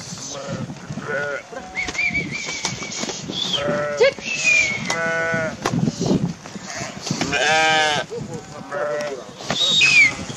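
Sheep and lambs bleating on a farm while lambs are separated from their mothers and fed, many loud overlapping bleats of different pitches calling back and forth, with other farm noise around them.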